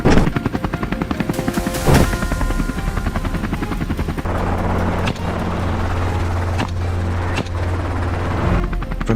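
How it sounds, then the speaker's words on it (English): Hunting helicopter flying low overhead across open plains, its rotors thundering in a loud, continuous thudding beat with a steady engine roar underneath, broken by a few sharp cracks. "With rotors thundering at speeds over 400 RPM and aircraft traveling up to 120 to 150 miles per hour"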